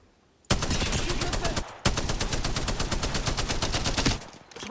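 Rapid automatic gunfire in the Apex Legends video game, two long sustained bursts of sharp, evenly spaced shots separated by a brief pause, loud and close.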